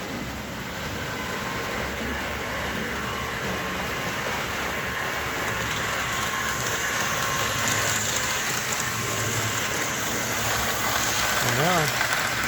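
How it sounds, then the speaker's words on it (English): A small, noisy model train engine whirs and grinds steadily up close, a continuous rough mechanical drone with faint rattling throughout. "For some reason it's a noisy engine."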